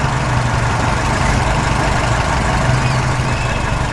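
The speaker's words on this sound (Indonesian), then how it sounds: "Traktor biru melintas di tengah tanah berbatu." A blue tractor drives across rocky ground, its engine a steady, loud low rumble that holds an even drone throughout with no voices.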